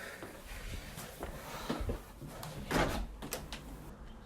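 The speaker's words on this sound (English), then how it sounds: "Okay, I'm gonna open up this door." A door is opened indoors, giving a few quiet knocks, rattles and scrapes of handling, faint and fairly close, with no speech.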